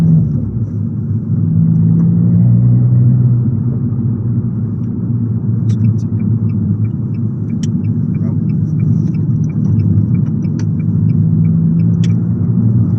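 An Abarth running a Toyosports exhaust holds third gear on the road, a loud, continuous, close low exhaust rumble with slight swells in pitch as it goes.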